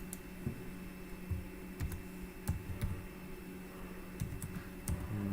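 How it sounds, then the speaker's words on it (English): Quiet typing on a computer keyboard, an address being entered during a listening test: irregular light key taps and clicks, some in quick bursts, close and soft against a faint steady hum, no voices. "Just typing that in."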